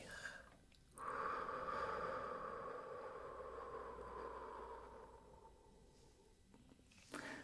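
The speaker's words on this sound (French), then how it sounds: "Encore 2, on inspire. On garde. Et on expire." Slow, deep breath in and out during a calm guided relaxation, a long soft airy inhale swelling and holding, then easing into a gentle exhale, close and quiet with no talking.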